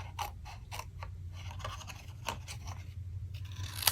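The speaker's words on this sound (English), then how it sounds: "I'm just going to take my scissors and trim this off." Several crisp snips and soft crunches of scissors cutting paper, spaced irregularly over a low steady hum, close by with no talking.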